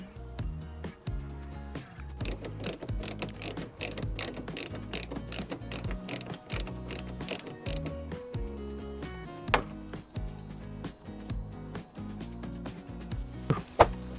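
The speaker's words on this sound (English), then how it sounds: "remember to put the two retaining screws back in the top" Retaining screws being driven back into the top of a campervan rear door, a run of quick ratcheting clicks in short repeated bursts, close up, with the occasional knock from the tool.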